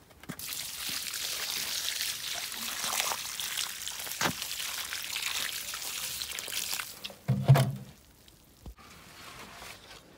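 A watering can pours a magnesium sulfate solution around the base of a conifer, a soft continuous stream of water hissing onto soil, fairly faint, ending with a brief clunk.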